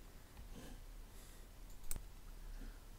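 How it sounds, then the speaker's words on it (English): A computer mouse gives a few faint left clicks during work in Blender 2.73, with one sharper click standing out over quiet room noise. "So now I'm just left clicking right here."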